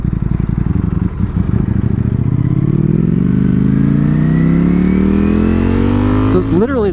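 A 2021 Ducati Streetfighter V4 engine under load while riding, loud and close, its pitch climbing steadily as the bike accelerates through the gear, with wind noise and a brief shift blip at the end.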